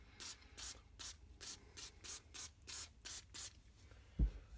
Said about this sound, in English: I like Rem oil, it's pretty good stuff, and I'll just hold this kind of back a ways, about 12 inches or so, and I'll just lightly spray it